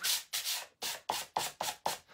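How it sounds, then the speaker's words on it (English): A worn sanding pad rubs lightly along wooden edges in seven quick, close strokes with short gaps between them, each a bright scratchy swish with no talk. "I'm going to sand the edges just a little bit more."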